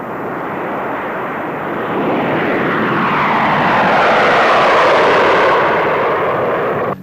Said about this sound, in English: For a more realistic kind of evidence, a B-36 and a B-47 will be in the air to find out the effect of blast and heat on delivery aircraft.